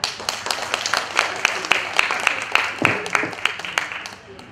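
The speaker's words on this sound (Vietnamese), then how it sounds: "Ta thành kính bằng một tràng vỗ tay." Applause from a reunion gathering of former literature students honoring late teachers, with individual sharp claps standing out over a steady patter that thins toward the end, some voices faintly mixed in.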